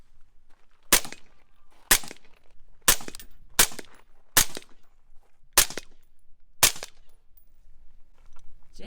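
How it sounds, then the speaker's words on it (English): Seven sharp, loud .223 rifle shots strike a steel factory OEM rear diff cover for a Jeep Wrangler JLU Rubicon set out at 50 yards. The cracks come at uneven intervals of about a second, each ringing briefly, with no talking between them. "our friend Ryan here is going to shoot it with his 223."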